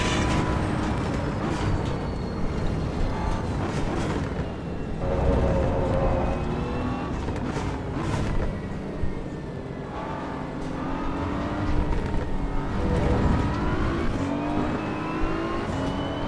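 Race car engine in the Assetto Corsa Evo racing game, driven on the North Slope with a rival close behind, a loud continuous drone rising and falling through revs and gear changes for the whole stretch, with no talk over it.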